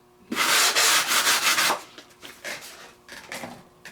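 80 grit sandpaper scrubs across a foam model wing in fast, close back-and-forth strokes, loud and continuous at first, then easing into shorter, lighter passes.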